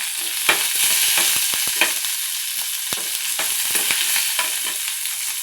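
Cumin, curry leaves and onion sautéing in a pan for a ground-spice fish curry, with a constant bright sizzle broken by clicking spoon strokes against the pan, close and without talk.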